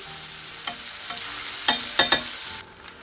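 Oyster mushrooms frying in a bath of hot oil, a steady sizzle with a few sharp clinks and scrapes of a utensil against the pan, close and without talk.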